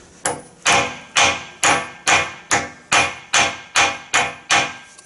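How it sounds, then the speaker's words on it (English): A hammer taps a metal ferrule onto a wooden rod scraper, ten evenly spaced sharp knocks in a steady rhythm, close and fairly loud with nothing else heard. "we can use a hammer"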